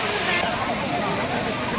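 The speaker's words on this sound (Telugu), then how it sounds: "కాసేపట్లో గండహాటి వాటర్ఫాల్స్కి వచ్చేసాం" Gandahati waterfall in Odisha gives off a constant, hissing roar of falling water that stays loud and even throughout.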